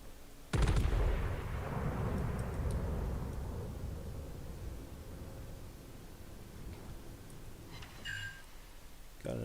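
Warship main guns in World of Warships fire one heavy, loud blast whose deep rumble decays slowly over several seconds, followed by faint clicking interface sounds.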